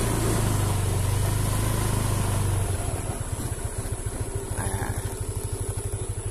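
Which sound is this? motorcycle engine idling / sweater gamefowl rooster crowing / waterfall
motorcycle engine idling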